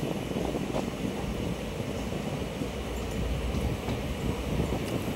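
A train running along a railway line through green countryside in the offbeat Dooars region, a steady, continuous rumble of wheels on track, fairly close and constant throughout with no talk.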